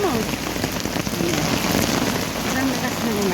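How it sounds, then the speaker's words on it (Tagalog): Heavy typhoon rain pours down in a dense, steady roar of drops beating on surfaces close by, with no break across the whole stretch and a faint higher whine running through it. "Parang lakas ng ulan. Talagang bagyo na."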